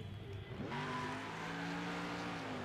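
A car revs and accelerates in the opening of a Next Car Game demolition derby, a video game, with the engine tone rising and holding steady after a short quiet start.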